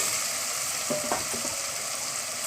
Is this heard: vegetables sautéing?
yes